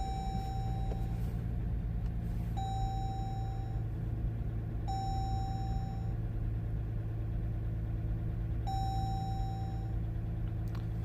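A Jeep Grand Cherokee with a Quadra-Lift air suspension fault idling with a steady low engine hum, while a high warning chime sounds four times at regular intervals over it.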